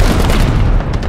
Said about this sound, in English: I'm gonna throw a grenade now